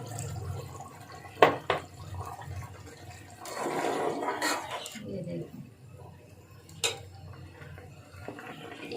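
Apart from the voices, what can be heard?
water being poured into pot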